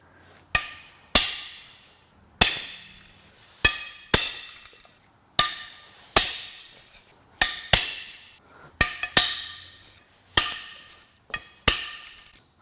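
Corroded bolts on a salty 200K-mile Subaru Outback EZ30R 3.0 H6 engine being torn down snap loose in a series of about a dozen sharp, close metallic cracks, each quickly decaying, spaced at irregular intervals.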